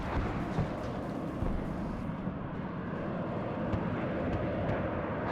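Jet aircraft engine roar from the WARNO real-time strategy game, a steady broadband rushing hum that holds loud and even throughout with faint crackles of battle beneath.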